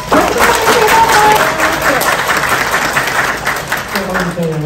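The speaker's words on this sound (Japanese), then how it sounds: "どうぞ皆様大きな拍手でお迎えください" A hall audience claps to welcome a guest artist onto the stage at a Sakura Wars art festival talk show in Osaka, steady dense applause with an announcer's voice over it toward the end.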